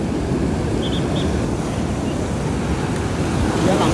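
Ocean waves at Arambol beach in Goa, a loud steady wash of surf close by with wind rushing across the microphone, continuous and unbroken throughout.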